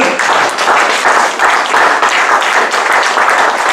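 A church congregation at a sermon applauds loudly and continuously, dense clapping from many hands with rhythmic surges, up close and filling the room.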